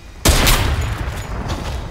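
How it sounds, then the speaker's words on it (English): Gunfire from the video game Fortnite bursts in abruptly as a loud, dense volley of rapid shots that stays busy and continuous to the end. "that sounds like someone's about to get shot"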